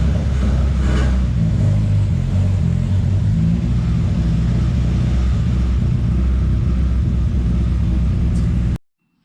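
A Honda Civic engine with transmission trouble idles and revs in a steady loud rumble while someone tries to shift it into reverse, running continuously before cutting off abruptly near the end.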